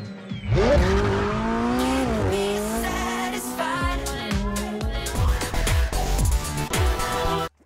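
Racing cars in the Forza Horizon video game, engines revving and shifting pitch as tires squeal in sharp bursts, loud and continuous with layered game music or effects throughout.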